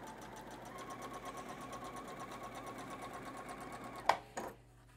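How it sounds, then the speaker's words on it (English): Sewing machine with the presser foot lowered, stitching steadily through a batik fabric quilt block, a continuous even whir that ends with a couple of sharp clicks. "I can just lower my presser foot again, and now we're gonna go ahead and we're just gonna sew that all the way through."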